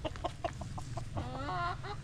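A rooster clucks in a run of short, rapid notes, then lets out a longer drawn-out call, nearby over a steady low background hum, in a village in Tetebatu, Indonesia.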